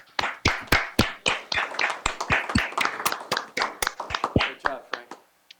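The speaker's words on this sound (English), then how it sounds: "The motion carries. Round of applause." A small group at a committee meeting claps after a motion carries, with sharp, uneven hand claps close by that thin out and stop after a few seconds.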